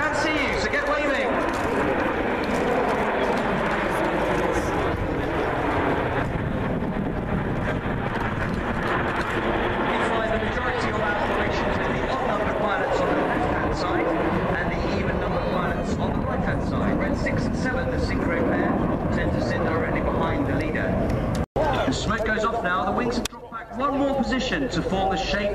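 Red Arrows jets at an air display at Waddington give a broad, continuous roar as they fly past, heard loud and sustained under a public-address announcer's commentary.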